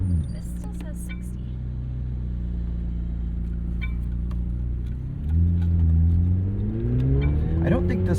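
A 2025 McLaren 750S twin-turbo V8 supercar cruising on the road, a steady low engine drone with faint tyre and cabin noise, then a rise in revs and a louder rumble as it accelerates, heard from inside the car.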